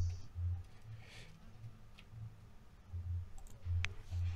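A computer mouse clicking in Planswift measuring software, faint close clicks repeating in a fairly regular rhythm about every half second, with no talking.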